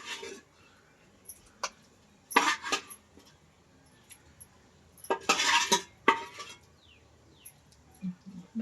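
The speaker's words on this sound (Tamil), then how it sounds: "மெதுவாக கிண்டி விடணும்." Fish curry stirred gently in a pot, heard as intermittent metallic clinks and scrapes of a spoon against the vessel, close and irregular, with quiet pauses between strokes and no talking.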